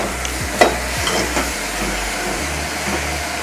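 Onions frying in a pan for a Telangana-style pulao and liver curry, stirred with a utensil after salt is added: a steady close sizzle carries a few scraping stir strokes and one sharp clink of the spoon against the pan.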